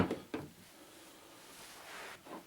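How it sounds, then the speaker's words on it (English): Wooden doors on a Singer Model 21 parlour sewing machine cabinet are shut, giving two quick close knocks in succession. A soft rustle follows, then another light thud near the end. "Close the rear and front bottom doors"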